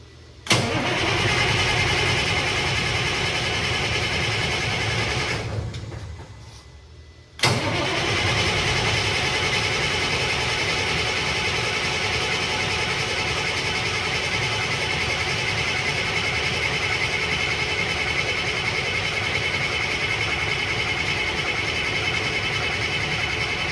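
A Mack Superliner truck's diesel engine runs loudly for a few seconds, then winds down and nearly dies. After a brief lull it abruptly fires back up and settles into a steady, close, rumbling idle.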